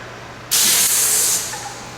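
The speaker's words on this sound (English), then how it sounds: "Okay, we'll test spray now at the minimum pressure." Pressure washer test spray at minimum pressure bursts on loud and steady as a broad, hissing jet of water, holding strong for nearly a second before easing slightly and continuing softer to the end.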